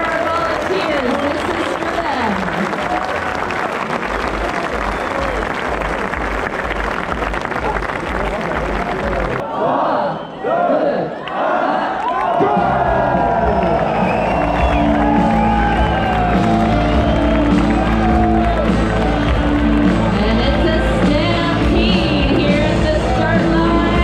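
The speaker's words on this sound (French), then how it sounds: "Un maximum d'applaudissements" Crowd at the Marathon du Mont Blanc in Chamonix clapping and cheering loudly in a continuous roar, briefly dipping before resuming over music, with voices mixed in.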